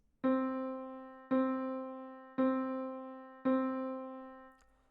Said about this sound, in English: 2 measures using only half notes would look and sound like this.